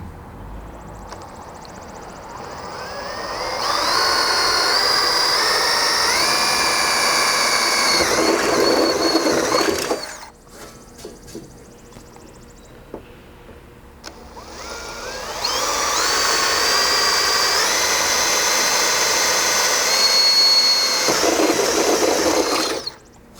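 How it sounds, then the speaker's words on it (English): A step drill bit bores pilot holes into the rear overhead panel inside a Ford Bronco 4-door, giving two sustained high whining bursts of several seconds each, separated by a quieter pause. "So I just used my step bit to get started with a smaller pilot hole."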